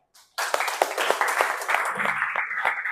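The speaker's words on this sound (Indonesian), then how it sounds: "Oke, tepuk tangan dulu dong." Students in a classroom break into lively applause after a brief pause, with many hands clapping steadily and close by for a few seconds.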